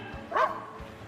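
A single short bark from a dog in an AI-generated scene, bright and fairly close, rising briefly out of a soft background hum with no talk.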